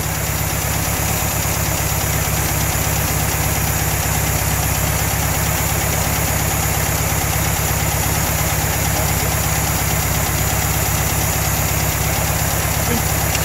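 A VW Beetle engine swapped in from a trash-picked motor runs steadily with its throttle hanging up, a loud continuous idle hum with faint knocking vibration and no pauses.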